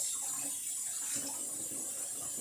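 Tap water runs steadily into a kitchen sink while food is washed, a continuous close hiss and splash with a slight shift in the flow partway through and no talking.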